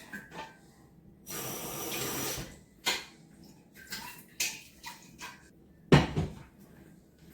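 A kitchen tap runs water in bursts while preparing water for Jamaican pumpkin soup, with a longer steady stream early on, then shorter splashes, clunks and cupboard knocks scattered between quiet gaps.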